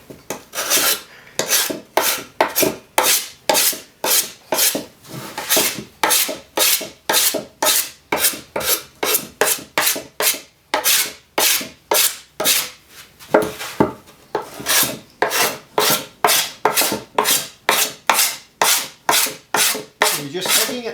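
Sharp chisel scraping old finish off the wooden cabinet of a Zenith table radio, a long run of about forty quick, even rasping strokes, each a short bright scrape, close and loud with no talk.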